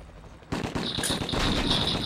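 Gunfire in the PS2 shooter 25 To Life, a sudden loud burst of rapid automatic shots starting after a brief quiet moment and continuing as a dense rattle.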